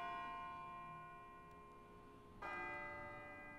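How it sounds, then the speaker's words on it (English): A bell tolling in the video game Persona 3 Portable, sustained ringing tones that fade and then a fresh strike swells again, faint and distant with no talking. "It sounds like a bell, but where's it coming from?"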